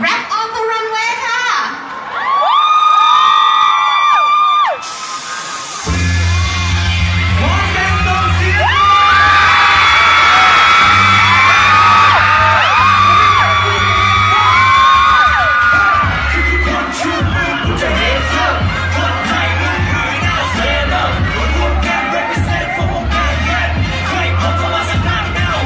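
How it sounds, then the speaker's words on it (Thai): A crowd at a Rap on the Runway fashion show, part of the Robinson Jeans 2018 event at CentralPlaza Khon Kaen, whoops and yells loudly, then keeps cheering as a thumping music beat kicks in beneath it. "ขอเสียงปรบมือเลยนะให้กับ Rap on the Runway ค่ะ"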